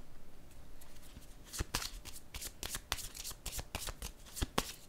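Tarot cards shuffled by hand in a quiet room, a run of crisp riffling bursts and soft flicks in an irregular rhythm, close and fairly quiet with no voices.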